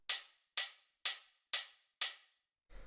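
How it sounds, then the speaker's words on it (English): Open hi-hat sample built from two layered sounds for a minimal house track, struck five times at an even pace, each a bright airy hiss that decays quickly, followed by a brief low thump at the end. "Next thing we have here is the open hi-hat"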